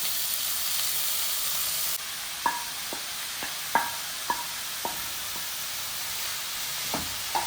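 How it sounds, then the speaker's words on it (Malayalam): Bitter gourd, onion, green chilli and carrot dropped into a hot pan and sautéed, a steady sizzle and hiss with sharp, spaced clinks and scrapes of a spoon stirring. "കുറച്ചൊന്ന് വഴറ്റാം ഇതിലേക്ക് മുറിച്ച് വെച്ച കൈപ്പക്കയും ഉള്ളിയും പച്ചമുളകും ക്യാരറ്റും ഇട്ട് കൊടുക്കാം"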